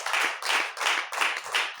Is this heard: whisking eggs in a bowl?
no